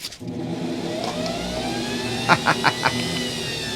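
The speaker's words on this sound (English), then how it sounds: "Stupid dust collector." A dust collector runs with a steady motorized whir, while a few brief knocks sound partway through.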